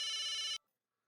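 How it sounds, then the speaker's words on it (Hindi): A telephone rings with a steady electronic tone in a household setting, loud and close, cutting off abruptly about halfway through and leaving silence. "एक मिनट, फोन"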